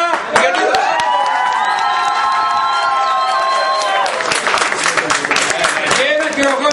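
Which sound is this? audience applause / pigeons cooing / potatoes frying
audience applause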